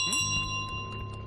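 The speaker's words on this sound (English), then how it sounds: "Oh, she heard the bell." A bell rings in Untitled Goose Game, a short bright chime with a sustained metallic tone over light game sounds, lasting about a second.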